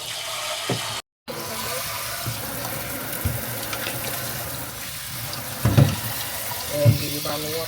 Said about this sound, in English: So I'm just spraying this off with the sprayer, you all, in hot water.